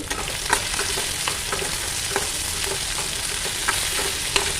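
Shallots, dried fish and dried red chillies sautéed in a pan, with a dense, continuous sizzle broken by repeated clinks and scrapes from a stirring spoon.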